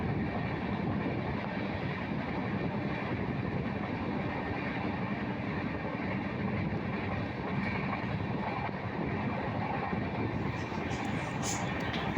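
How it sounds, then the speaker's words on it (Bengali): Train running from Shalimar toward Puri, a steady continuous rumble and rattle heard from inside the carriage, unbroken throughout. "ভালোই গতিতে ট্রেনটা টানছে"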